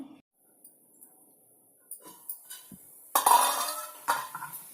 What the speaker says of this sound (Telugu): ఇప్పుడు మళ్ళీ నేను మూత పెడతా అండి